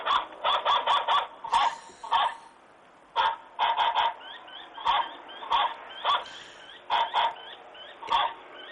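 A watchdog sound device plays bird calls, a run of squawking, honking clucks in quick bursts with short pauses between them, tinny and clipped as if through a small speaker.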